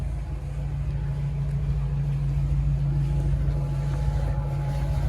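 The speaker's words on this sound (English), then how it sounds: "It's a big block engine. Sounds super sweet." A big block engine on a 2002 Sea Ray 380 Sundancer boat idles steadily with a deep, throaty rumble and constant low drone, close by, with no talking.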